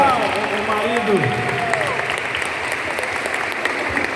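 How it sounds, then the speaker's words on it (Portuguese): Audience applause for a couple at a church prayer-group seminar testimony, a steady crowd clapping throughout with a voice speaking over it at the start. "Uma salva de palmas para esse casal legal"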